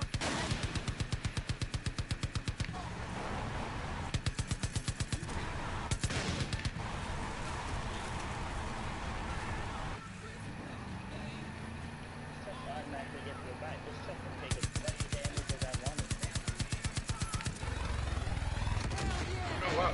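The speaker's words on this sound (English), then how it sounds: "shot the pilot out" Rapid automatic gunfire in the video game Far Cry 5, aimed at a helicopter pilot, with long bursts of dense shots broken by pauses over engine and rotor drone, with people talking in between.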